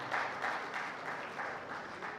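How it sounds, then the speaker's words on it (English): Conference attendees at an annual general meeting clap for the women, faint rhythmic applause with a pulsing beat, distant and soft over the brief moment. "Please, a round of applause for the women."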